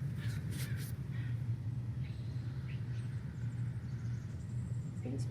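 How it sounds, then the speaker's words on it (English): A crow cawing in an outdoor field recording, a few short harsh calls near the start and scattered fainter bird sounds over a steady low rumble of distant traffic. "I'm going to find this crow sound and the American robin sound."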